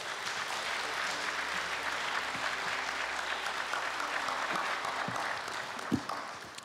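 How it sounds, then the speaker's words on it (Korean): An audience applauding at a Korea University anniversary ceremony, a broad, sustained wash of many clapping hands heard from a distance, holding steady before tapering at the end. "박수로 맞아주십시오."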